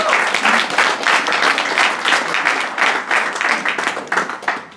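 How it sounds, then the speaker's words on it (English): A room of people applauds after a startup pitch at an evening pitch event, dense steady clapping holding strong for the whole stretch before tapering at the very end. "Matt gets another round of applause as well"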